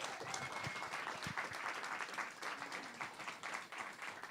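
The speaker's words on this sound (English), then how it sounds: "Give them a big round of applause." An audience at an event applauds the volunteers, a steady wash of distant clapping that holds level throughout, fairly faint.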